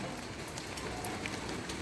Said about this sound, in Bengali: বৃষ্টিটা একটু একটু করে বাড়ছে